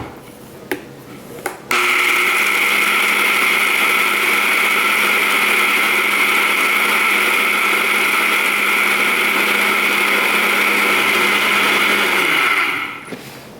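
A blender grinds freeze-dried peas into powder, its motor starting after a couple of clicks and running at a loud, steady whine for about ten seconds before spinning down.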